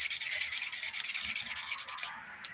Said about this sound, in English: Now I'm going to use this 180 grit side to lightly smooth out the surface of these nails.